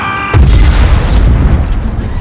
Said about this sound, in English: I'm gonna put some boosters on this fuel tank